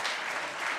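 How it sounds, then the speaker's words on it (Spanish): A church congregation claps in a short, dense burst of applause that stays steady and fairly loud, with no talking heard. "Fuerte ese aplauso a Dios."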